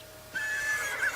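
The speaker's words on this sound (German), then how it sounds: "Im Park rennt ein Pferdl rum." A wild horse in The Sims 3 game gives a brief, thin whinny, a single high, faint neigh lasting under a second against a quiet background.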